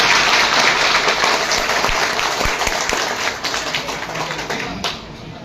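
Loud, dense applause from a crowd at a BJP political rally in a village near Shahabad, sustained clapping that slowly thins and fades toward the end.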